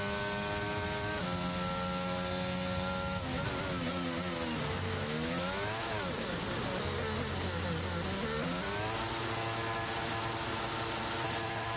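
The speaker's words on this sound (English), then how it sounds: "As much as it might be an engine glitch, it's also really horrible to listen to" A harsh electronic engine drone from a racing game car with an engine glitch, warbling, stepping pitch that repeatedly drops and rises, continuous and loud.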